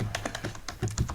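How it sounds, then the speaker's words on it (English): Quick, uneven keystrokes on a computer keyboard make about a dozen close, crisp clicks in a short burst, heard alone. "I'm still typing, don't worry."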